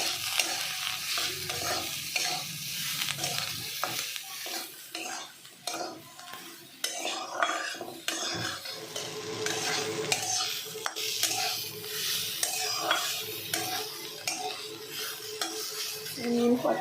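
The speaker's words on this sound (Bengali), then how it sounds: "এবার নাড়াচাড়া করতে করতে হয়ে গেল।" Spices with salt and turmeric are stirred in a pan over a steady sizzle, a utensil repeatedly scraping and clinking against the metal in a continuous, moderately close, busy rhythm with no talking.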